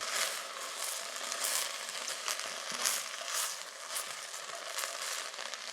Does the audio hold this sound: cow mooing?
no